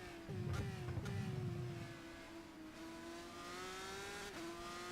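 A race car engine in the rFactor 2 sim racing game at the Hidden Valley circuit drones at high revs, holding a steady pitch with slight rises and dips as the car is pushed hard, alone and fairly loud.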